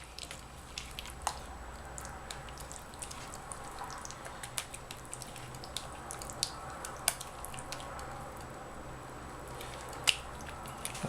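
Glycerin soap shavings stirred into gingerbread soap batter, giving soft squishy, sticky clicks and scrapes in an irregular rhythm, quiet and close with no talking.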